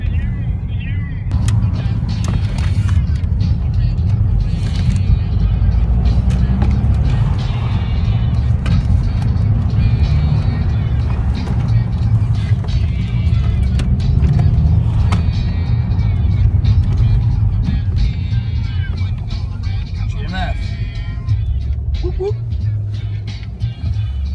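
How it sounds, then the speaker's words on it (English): Nissan Micra K11 driving in traffic: a steady, loud engine and road rumble inside the car continues throughout, with some clicks and small shifts in pitch. "we've hit traffic now"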